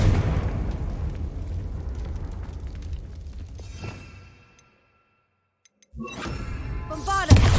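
Confringo explosive spell from Hogwarts Legacy, a big booming blast with a rumbling tail that fades into a second of silence, then fresh crackling bursts and a sharp hit near the end.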